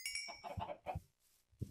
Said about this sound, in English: Hey, look, it's a chicken.